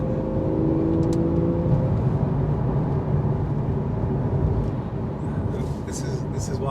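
A Porsche 911 Carrera 2 (991) with PDK gearbox drones under acceleration, a steady engine hum and whir heard from inside the car while people talk over it.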